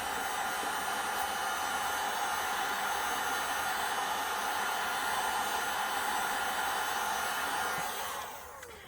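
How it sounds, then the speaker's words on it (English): A heat tool blows a steady, loud, hissing rush of air to dry ink on a metal can lid craft piece, running continuously before tapering off at the end. "Hit this with the dryer just to dry that up a little bit"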